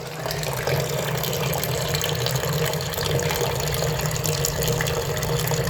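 Fresh apple juice runs in a steady stream from a juice press during home apple pressing, a continuous close watery pour with no breaks.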